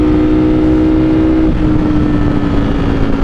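A Ducati Streetfighter V4S motorcycle engine runs loud and close, holding a steady droning tone with a slight pitch shift midway, no voices present.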